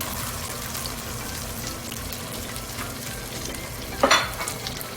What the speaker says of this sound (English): Our meat is cooking nicely here